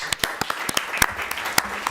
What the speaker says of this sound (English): Let's give a round of applause to St. Helena.